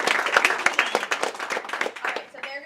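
Audience applause at a school variety show, a dense burst of clapping from a crowd that fades toward the end.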